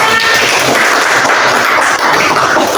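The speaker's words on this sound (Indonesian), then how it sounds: "Beri aplaus untuk kelompok 3." A classroom group breaks into loud, dense applause for a presenting team, a continuous wash of many hands clapping close by with no pauses.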